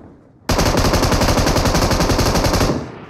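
Video-game gunfire: a loud, close, sustained automatic burst of rapid rhythmic shots lasting over two seconds, starting abruptly and then tailing off, with no talk over it.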